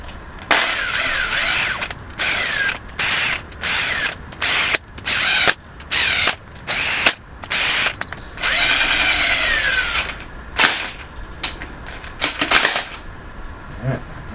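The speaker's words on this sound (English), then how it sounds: "I'll take our 14mm, snug everything up real good" Main bearing cap bolts on an engine block are snugged with a 14mm socket, giving loud, close bursts of rapid ratcheting in short repeated runs separated by pauses, with one longer spell of clicking midway.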